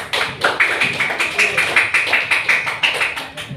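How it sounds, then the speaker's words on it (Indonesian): A classroom of primary school children claps together for a classmate, a dense, fast, fairly loud patter of many small hands with a faint voice woven through. "Tepuk tangan untuk Kaira."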